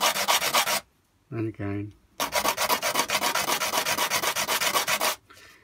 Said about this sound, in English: And then sand it along the grain.